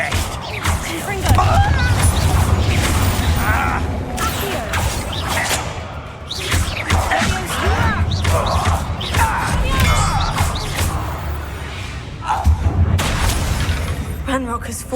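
Confringo fire-blast spells and combat impacts in Hogwarts Legacy, loud repeated booms and crashes with clattering debris over a busy battle mix with voices.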